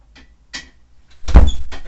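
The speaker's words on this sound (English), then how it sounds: "The door locked." A bedroom door shutting and locking: a few faint clicks, then a louder close thump with a brief rattle, near and alone.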